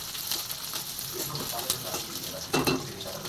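Onion and green chili frying in a pan, a steady sizzle with a spoon scraping and stirring through it, close and fairly loud, with a sharper burst of clatter near the end.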